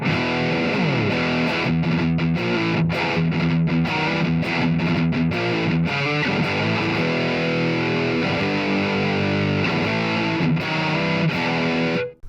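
Loud, high-gain distorted electric guitar through a Blackstar ID:Core 100 amp with gain near 75%, playing continuous chugging riffs and sustained chords, saturated and heavy throughout before cutting off at the end.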